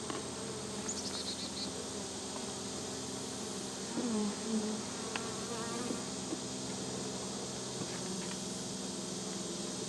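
Honey bees buzzing steadily inside an open beehive, a dense low hum of many insects close by with occasional individual bees droning louder as they pass near, no voices.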